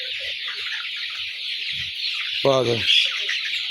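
Red laying hens cluck and squawk nearby in a short burst, over a steady background hiss, while someone speaks briefly.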